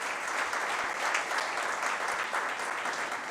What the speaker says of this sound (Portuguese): pedir uma salva de palmas para estes jovens